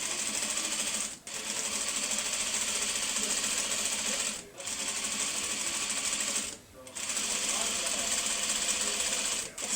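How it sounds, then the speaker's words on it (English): A sewing machine stitches across joined quilt top sections, running fast and steadily for several seconds at a time, with three short pauses between runs. "Sew over that seam."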